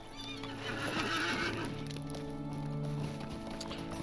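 In the video game Lord of the Rings Online, a horse gives a loud, drawn-out whinny with hoof clip-clops underneath, heard on its own without talk.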